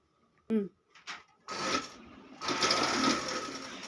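An electric sewing machine stitches a saree cover onto an old hand-stitched quilt. A few soft clicks and taps come first, then a close, steady whirring run of stitching continues to the end.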